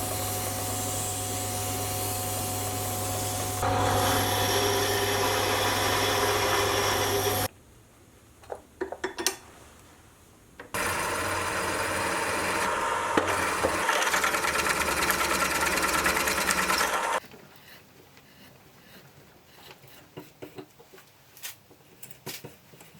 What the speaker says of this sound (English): I'm going to drill a hole part way through and then I'll part it off